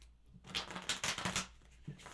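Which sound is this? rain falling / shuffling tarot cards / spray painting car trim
shuffling tarot cards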